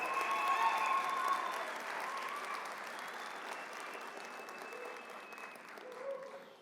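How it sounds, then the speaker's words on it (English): Applause from the audience at a spring 2024 graduation ceremony, honouring faculty and staff: steady, dense clapping across the hall that starts loud and slowly fades over several seconds. "Maybe a round of applause for all the faculty and staff up here"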